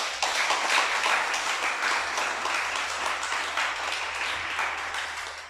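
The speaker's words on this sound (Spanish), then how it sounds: "Un aplauso al Creador, pues." A congregation at a Shabbat church service breaks into sustained applause, dense clapping that stays steady and gradually eases off.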